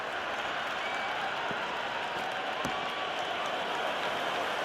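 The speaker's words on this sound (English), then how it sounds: "There's a buzz, a real buzz coming from the stands." Cheering stadium crowd at a one-day international cricket match between India and England in Cricket 26, a steady, moderately faint wash of applause and crowd roar with no clear breaks.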